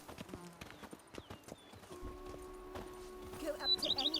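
Hooves of Roach, the horse in The Witcher 3, clip-clop in a steady walking rhythm at close range, with a faint bird chirp and a brief whinny-like sound near the end.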